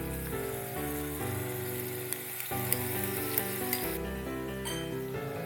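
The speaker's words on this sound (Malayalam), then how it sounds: "ഇതിലേക്ക് ഇഞ്ചി വെളുത്തുള്ളി പേസ്റ്റ് ചേർക്കുക" Ginger garlic paste sizzling in a pan for Thrissur-style beef with koorka, a steady frying hiss with a few faint clinks, heard close up under soft background music.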